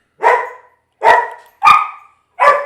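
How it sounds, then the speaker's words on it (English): A dog barks four times in evenly spaced, sharp, loud barks, close by, with silence between each. "quit barking at the neighborhood kids"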